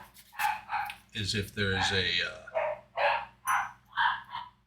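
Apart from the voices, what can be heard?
dogs barking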